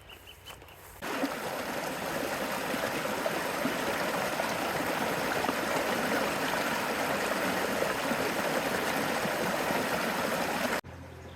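Sutter Creek in California's gold country flowing steadily, a loud, continuous rushing of creek water close by, with no talk over it.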